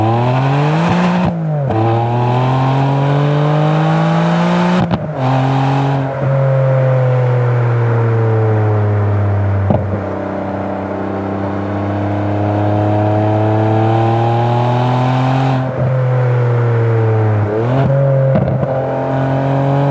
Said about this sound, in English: Holy crap, that V12 is just fantastic.